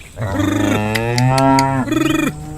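A buffalo lets out a loud, close moo, one long drawn-out bellow with a rough, pulsing tail at the end.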